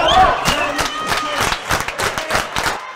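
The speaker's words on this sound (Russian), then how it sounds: "Болельщики не жалели сил и голоса," Volleyball fans cheer for their teams with rhythmic clapping and shouting voices, a crowd of spectators producing quick repeated claps over a background of yells.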